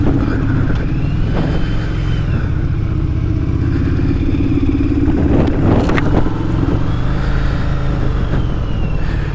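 A 1982 Yamaha Virago 920cc motorcycle riding on a cold, overcast day, its engine droning steadily and loudly throughout with a rougher surge midway, heard close without talk.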